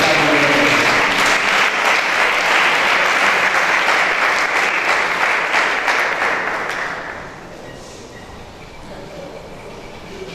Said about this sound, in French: sous vos acclamations, nous allons appeler ce pasteur, le pasteur Segla